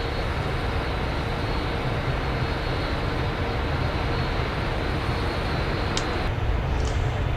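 Steady engine roar of a simulated Boeing 747-400 in the FSX flight simulator, with all four engines started and running; a constant, dense whoosh without pause, with a couple of faint clicks near the end.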